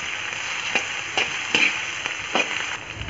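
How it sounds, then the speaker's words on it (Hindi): Potatoes frying in hot ghee for sabudana khichdi give a steady close sizzle, broken by four or five sharp scrapes of a spoon stirring them at irregular intervals. "अब हम इसमें आलू डाल देंगे, आलू को भी अच्छी तरह भून लेंगे घी में।"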